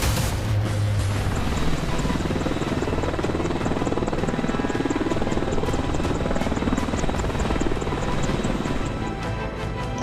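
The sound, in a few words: Apache AH-64E helicopter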